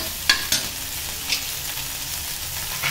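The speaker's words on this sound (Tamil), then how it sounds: "தேங்காய் வதக்க வேண்டாம், சும்மா ஒரு 5 மினிட்ஸ் வதக்கணும் போதும்" Mint and coconut being sautéed in a pan for pudina chutney: a soft, steady sizzle broken by a few sharp spatula clicks and scrapes spaced a second or so apart.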